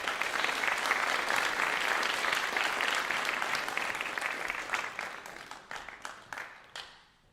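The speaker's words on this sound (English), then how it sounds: "Please give her a round of applause." Audience applause fills a graduation ceremony hall, a dense steady clapping from a large crowd that thins into scattered individual claps and fades out over the last couple of seconds.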